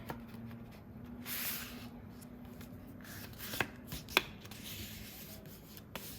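Cardstock for a Cricut Christmas pop-up card being folded and creased by hand, with soft rubbing and brushing plus a few sharp paper snaps, no talking.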